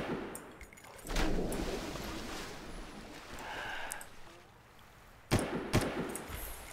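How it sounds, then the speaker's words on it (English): A couple of loud gunshots in Far Cry, fired at chains, ring out a few seconds apart over a quieter in-game background. "Can I just shoot the chains?"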